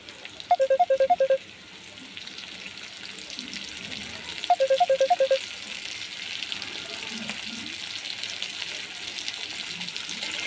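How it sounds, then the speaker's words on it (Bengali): Potatoes seasoned with turmeric, chili and salt fry in hot oil with a steady, even sizzle throughout, interrupted by two short bursts of rapid electronic beeping near the start and middle. "এবার আলুটা ভেজে নিব।"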